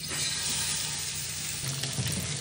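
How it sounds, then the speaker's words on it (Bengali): Fish sizzles and crackles in white oil in a new frying pan, a dense steady fry heard up close with no voices. "নতুন ফ্রাই প্যানে প্রথমবারের মতো মাছ ভাজতেছি"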